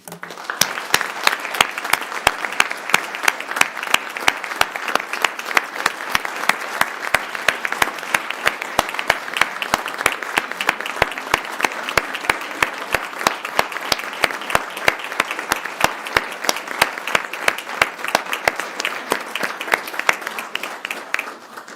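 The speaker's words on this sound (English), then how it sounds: "Would you please join me in a round of applause?" Sustained applause from a sizable audience at a school board of education meeting, dense steady clapping that continues at an even level for over twenty seconds.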